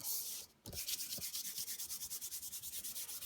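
A hand rubbing paint into a toned painting ground, close and fairly loud, a brief pause, then a steady rhythmic back-and-forth scrubbing at about five strokes per second with no voices.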